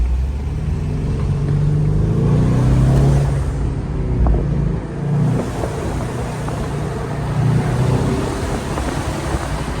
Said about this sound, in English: you can hear the turbos just spool up without even me trying